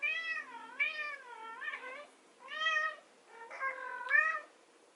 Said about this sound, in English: Oh, baby kitty has something to say.